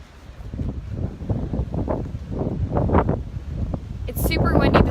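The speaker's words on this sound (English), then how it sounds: "It's super windy this morning" Strong gusty wind batters the microphone on a beach at sunrise in Destin, Florida, a constant roaring buffet that swells and surges with no break, with a sharper gust near the end.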